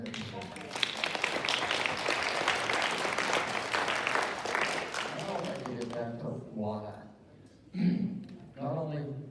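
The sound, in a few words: town hall audience applause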